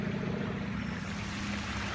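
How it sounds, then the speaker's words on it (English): A small man-made waterfall pours into a pipe outdoors, giving a steady, continuous rush of flowing water that holds at an even level throughout with no voices. "there's like this little kind of man-made waterfall right here that goes into this pipe"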